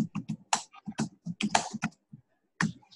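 Fingers type on a computer keyboard in an uneven run of close, crisp key clicks, with a short pause before a final few presses.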